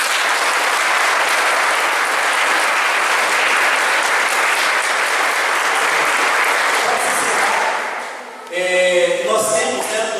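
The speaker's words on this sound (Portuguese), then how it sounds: "Então um aplauso para a região 4." A church congregation at a Sunday worship service breaks into sustained, loud applause for about eight seconds before it fades and a voice begins to speak.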